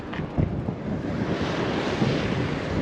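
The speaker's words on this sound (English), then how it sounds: "Look, gale force winds are picking up." Gale-force wind buffets the microphone beside choppy loch water in Scotland near Fort Augusta, a loud continuous roar with gusty bursts and rushing waves.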